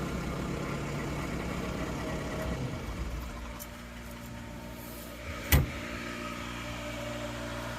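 A New Holland CR920 combine engine idles down after the PTO is switched off; a low, quiet hum eases to a softer level midway, and one sharp click follows shortly after.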